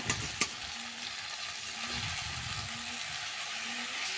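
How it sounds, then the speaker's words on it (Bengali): Chow mein noodles seasoned with turmeric and salt stir-fry in a pan with a steady, close sizzle, plus a couple of sharp clinks from stirring near the start. "তারপরে ধীরে ধীরে নাড়তে শুরু করলাম"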